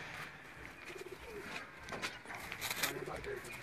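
Breeder pigeons from Sialkot coo softly in short low murmurs against steady background hiss, with faint chirps and a few sharp clicks scattered through.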